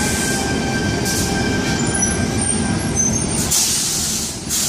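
An Oscar passenger train passes through Kogarah station in Sydney, a loud, continuous rail rumble with a steady tonal whine and airy hiss, easing off near the end.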